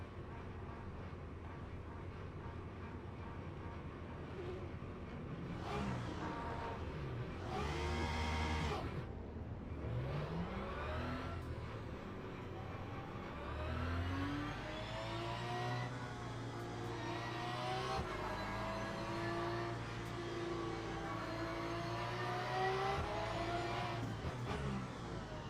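Race cars in a Le Mans racing video game roll through a formation lap on the Mulsanne layout, with Porsches, LMP2 and LMP3 prototypes on the grid. Engines drone and rev up and down in rising and falling pitches, one car passing loudly close by.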